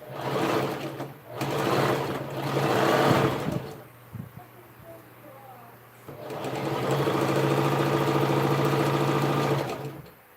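Sewing machine stitching the side seam of a fabric bag, close and loud in bursts of whirring runs separated by short pauses, with a longer steady run at the end.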